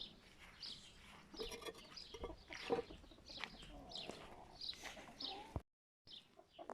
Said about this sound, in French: Et voilà ici aux poules.